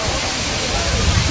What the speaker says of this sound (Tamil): இந்த அருவியோட ஃபுல் சத்தத்தை நான் போடுறேன்.